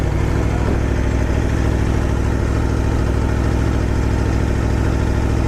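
A motorcycle engine runs steadily right after being revved, a loud, continuous mid-pitched idle rumble that fills the whole stretch with no talking.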